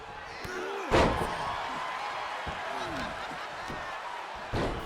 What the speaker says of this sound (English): Slamming that head into the mat